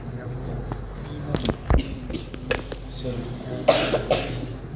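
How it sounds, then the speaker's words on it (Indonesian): Several short, harsh coughs burst out amid a murmur of nearby activity, with one louder cough toward the end. "Saya mau batuk ya."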